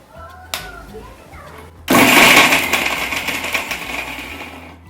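A mixer grinder whirs loudly as it grinds salt and green chillies, starting abruptly after a short click and running steadily for several seconds, with talking beforehand.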